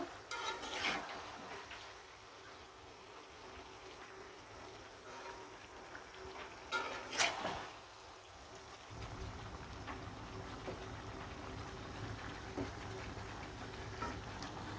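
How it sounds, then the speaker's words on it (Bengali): Seared chicken leg pieces sizzle steadily in a pan while being stirred, with a few sharper scraping bursts from the utensil standing out above the constant frying hiss. "সবগুলো মাংস কিন্তু সুন্দরভাবে লাড়াচাড়া দিয়ে মিশিয়ে দিব"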